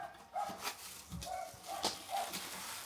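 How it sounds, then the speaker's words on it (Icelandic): A dog barks outdoors near a football stadium, several short, moderately loud barks scattered in an irregular rhythm over background noise, with no speech. "Það er hundur hérna úti sem að rífa í sig aðdáendur."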